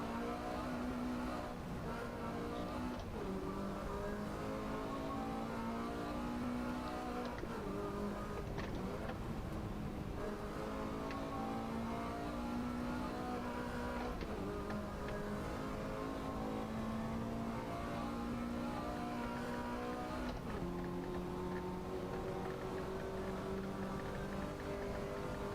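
A race car engine in Assetto Corsa revs steadily and climbs in pitch, dropping briefly at several gear changes, loud and continuous with no talk.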